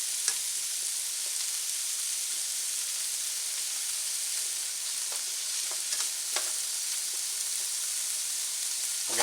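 Goose pieces and thawed broccoli stir-fry in an open pan, a steady bright sizzle running throughout with occasional sharp crackles and light scrapes from stirring.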